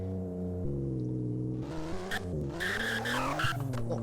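Car tires skidding and squealing while drifting in the racing video game Classifia V2, with a steady revving engine drone underneath and a sustained screech through the second half.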